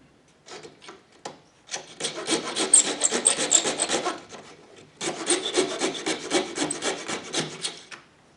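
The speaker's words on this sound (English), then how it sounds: "put the tip of the drill bit right where the point is, and twist and push down at the same time" A drill bit twisted by hand bores into a small wooden block, giving short scratchy grinding bursts that build into two longer spells of rhythmic rasping separated by a pause, close and fairly quiet with no talking.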